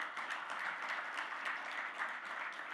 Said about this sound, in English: Come on, everyone, generous round of applause.